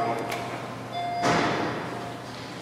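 The elevator at Hamilton Central Library, formerly an Otis Lexan unit, has its door slide shut and close with a dull thud midway, with soft tones and room noise around it.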